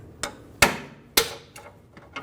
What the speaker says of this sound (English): Put that pry bar right up against where the clamp gets pinched and hammer it.